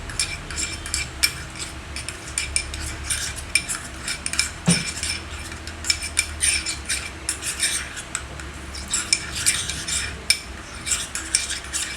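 A spoon mixes a homemade hair-thinning remedy in a bowl, giving quick repeated clinks and scrapes in an uneven, busy rhythm, close and fairly loud, with no voices.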